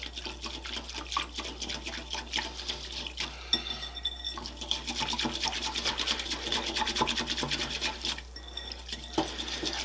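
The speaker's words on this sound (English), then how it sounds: "just mix this together here and just get it till it's nice and frothy on top" A yeast, sugar and water mixture for challah is stirred briskly in a bowl, giving a continuous close liquid swishing and clinking with rapid rhythmic strokes and a brief pause partway through.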